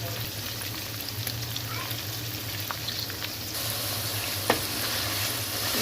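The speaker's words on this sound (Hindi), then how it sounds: "इसको हम अच्छे से थोड़ा भूनेंगे" Ginger garlic paste frying in a pan for chicken nihari makes a steady, close sizzle that runs the whole time, with faint scattered pops and no talking.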